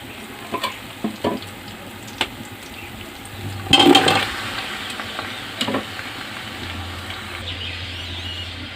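Chicken pieces frying with onions in a pan for a chicken karahi give a steady close sizzle, with a louder burst of hissing and stirring clatter midway and scattered scrapes, and no talking.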